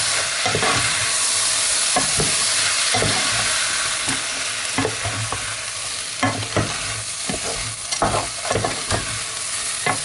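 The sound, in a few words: stirring coquillettes with chorizo and white wine in a pan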